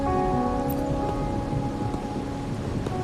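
Steady rain falls in a Wuthering Waves game scene, a continuous wash of rainfall with low rumbling underneath and a soft tonal music-like hum running alongside.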